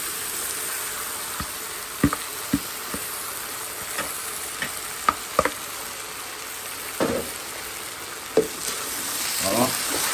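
Shrimp with snow peas and onions sautéed in a hot pan hiss steadily, punctuated by repeated sharp clicks and scrapes of a utensil on the pan. The sound is close and moderately loud, and no one speaks.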